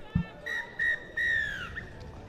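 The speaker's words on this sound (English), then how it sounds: "And that is the half-time whistle." Referee blowing the half-time whistle at a women's Kiwi Girls versus Scottish Tigers Ladies match: three shrill blasts, two short and a longer final one, loud and clear over faint background noise.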